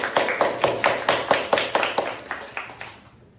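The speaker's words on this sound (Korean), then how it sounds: "우리 서주에 박수 한번 해주세요" A small church congregation claps at a Sunday worship service, a short run of about a dozen sharp, evenly spaced claps that fade out toward the end.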